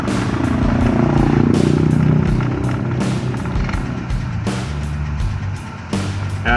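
A Toyota Revo pickup engine cranks without starting, the starter churning in a rough, uneven clatter for several seconds, close and fairly loud, with brief pauses and sharp knocks between attempts.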